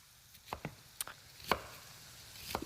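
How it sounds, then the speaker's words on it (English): A knife strikes a cutting board a handful of times while a medium-sized white onion is chopped, with sharp, irregular, fairly quiet taps and quiet gaps between them. "I'm also going to chop 1 medium-sized onion"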